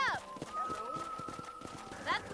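A horse's hoofbeats clip-clop at a steady galloping rhythm in the western video game Red Dead Redemption, close but moderate in level, running beneath speech and a sustained musical tone.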